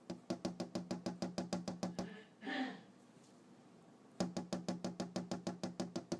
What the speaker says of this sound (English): Knock on the window again.